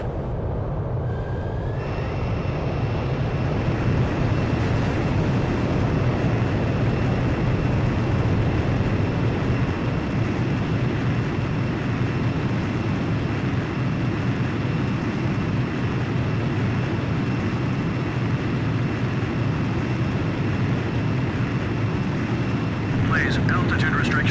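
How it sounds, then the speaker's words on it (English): A jet fighter's engine roars loud and steady through a long carrier catapult launch in Ace Combat 5, a dense continuous rumble with a faint whine above it. "Blaze, you are cleared for takeoff."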